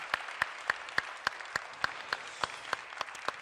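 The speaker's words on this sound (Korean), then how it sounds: "이 상황에서 한번 박수 이때 쳐야 되지 않을까요?" A congregation at a church new-believers' service claps together in a steady, evenly spaced rhythm: about a dozen crisp claps at moderate volume with no talk over them.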